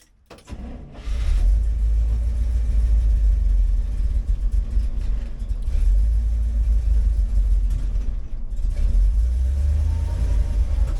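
A 1964 International Harvester Travelall C1100 engine idles and runs loud and close with a heavy low rumble, a faint voice briefly under it, with no clearly distinct backfire pops standing out.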